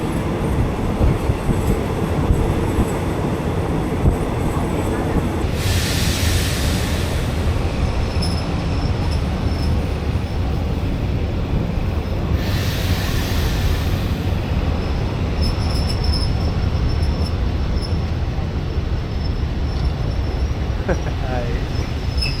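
A train rolls along the Thailand Death Railway near Tham Krasae, a loud continuous rumble of wheels on track with rhythmic clatter and two bursts of high wheel squeal, heard close from inside a carriage.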